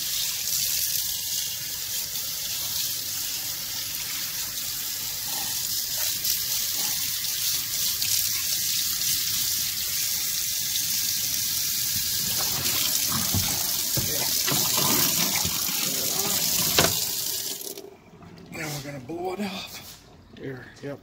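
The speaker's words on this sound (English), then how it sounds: "I'm gonna turn the hot water on." Hot water runs steadily from a tap, rinsing soap residue off a 1974 Norton Commando engine part during a bottom-end rebuild, a loud continuous gush that cuts off near the end.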